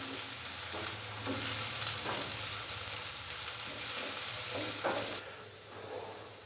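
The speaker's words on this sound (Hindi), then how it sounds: "प्याज को हमने हल्का सा फ्राई कर लेना है 1 से 2 मिनट के लिए" Chopped onion frying in a pan, a steady close sizzle with occasional stirring scrapes over about six seconds, easing slightly toward the end; no speech.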